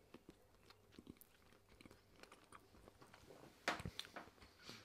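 Someone takes a big bite of a Quorn vegetarian steak slice pastry and chews it, soft crunchy bites and mouth noises close to the mic, with a louder crunch of flaky crust near the end.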